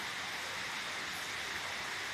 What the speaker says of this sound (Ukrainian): Не хоче дощ переставати. П'ятий день, кожен день дощ.